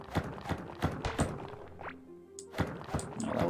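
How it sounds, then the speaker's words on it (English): A treasure chest in the Core Keeper video game gives off a series of heavy, dull thumps when first discovered, repeating in a loose rhythm over sustained tonal game sounds, fairly close and clear, with no voice. "It's interesting how the chest actually makes a thump sound when you first discover it."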